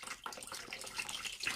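Tap water drains steadily into a sink while a telescope mirror is being washed, a continuous close hiss and splash with no voices.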